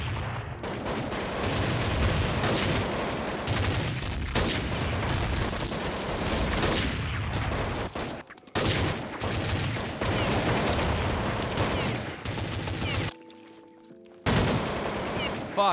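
Rapid bursts of Krieg rifle fire from Counter-Strike 1.6, dense and loud, running nearly continuously with brief pauses around the middle and near the end; a voice is faintly present beneath the shooting.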